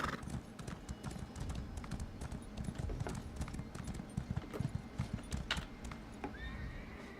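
Rapid hoofbeats clatter steadily throughout, a galloping horse close by in the video game Elder Scrolls Online, with a brief whinny near the end over a busy low rumble.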